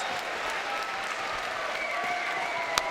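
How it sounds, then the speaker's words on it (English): Sustained applause from a fight crowd at a combat league event, a steady wash of many hands clapping at an even level with one sharp, louder clap near the end. "I'm going to stand up, Alex, and give that a clap"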